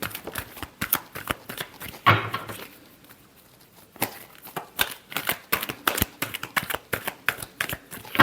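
Tarot cards are shuffled by hand in a rapid, close, crisp riffling patter, broken by a short quiet gap before the shuffling resumes in quick bursts.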